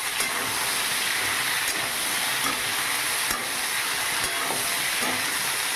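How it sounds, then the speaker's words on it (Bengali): Tender moringa drumstick pieces and potatoes stir-fried in a pan for a vegetarian dish: a steady, close, loud sizzle runs throughout, broken by periodic scraping stirs, with no talking. "কেটে ধুয়ে রাখা সজনে ডাঁটা এর মধ্যে দিয়ে দেব। আবার নেড়ে চেড়ে নেব কিছুক্ষণ ধরে।"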